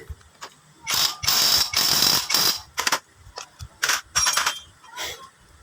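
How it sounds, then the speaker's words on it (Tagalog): Bursts of rapid ratcheting clatter as a castle nut is tightened with a castle wrench or impact wrench on a transmission, several short loud runs separated by pauses and small clicks. "Higpitan na natin yung castle nut gamit ang castle wrench or impact wrench."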